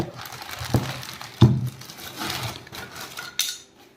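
A new Hawkins appe pan is handled, giving a few sharp metallic clanks and rattles with quieter scraping between them, close by and with no voices.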